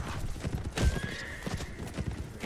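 Horses gallop in the video game Mount & Blade: Warband, with a dense, continuous clatter of hooves, a sharp neigh near the start, and other battle noise layered underneath.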